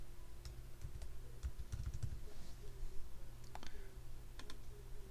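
Steady typing on a computer keyboard while entering text into a Word document, with irregular clacks running through the whole stretch under a faint background hum.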